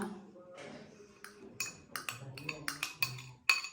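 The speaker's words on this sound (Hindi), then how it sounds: "अब हम इनको अच्छे से मिक्स कर देंगे।" A spoon mixes dried coriander, pomegranate seed powder, crushed red chilli and coriander leaves into mashed potatoes for aloo tikki, giving a series of soft scrapes and light clinks against the bowl that grow more rhythmic and sharper.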